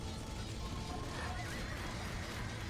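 Horse neighing amid a dense Age of Empires II battle with horse archers and spearmen, a brief whinny rising over steady, constant battle noise and clatter, with no voices in the mix.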